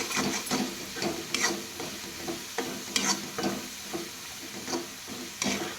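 Green chili paste being stirred and sautéed in a pan with bloomed cumin, a steady sizzle broken by repeated scraping strokes of the spoon, close and moderately loud with no talking.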